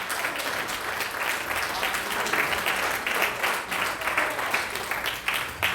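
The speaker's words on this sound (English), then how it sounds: "Come on and clap your hands for God on today" A church congregation claps hands in a dense, continuous wash of applause, steady and fairly loud from start to finish.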